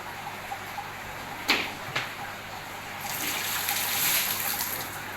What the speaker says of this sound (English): Water came over you, Reese.